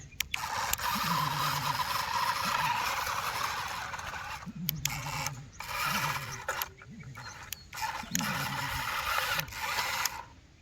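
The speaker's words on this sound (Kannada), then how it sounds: "ಈಗ ಸ್ಟಾರ್ಟ್ ಮಾಡ್ತೀನಿ ಫುಲ್ಲು ಸ್ಪೀಡ್ ಇಡ್ತೀನಿ" A small electric motor on a toy tractor running at full speed gives a loud, buzzing whirr with a wavering, warbling pitch that cuts out briefly several times.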